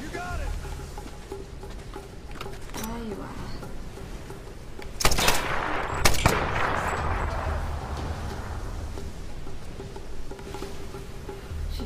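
Gunfire in Tomb Raider, two sharp loud shots in the middle of a longer stretch with a steady buzzing game ambience and a voice talking throughout.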